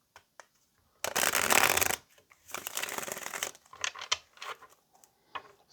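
Tarot cards being shuffled by hand in a quiet room, two long riffling bursts of crisp papery flutter, then scattered softer taps and card slides as the deck settles, with no voices.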